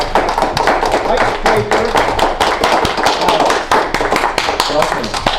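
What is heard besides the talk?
audience applause for a speaker coming up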